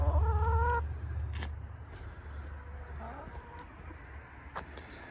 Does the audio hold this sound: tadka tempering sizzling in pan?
no